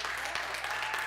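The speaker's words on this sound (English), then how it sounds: "Only at this college will I get clapped for my EBT card." Steady, dense applause from an audience at a college leadership conference, continuous and fairly loud across the whole moment, with no voices rising above it.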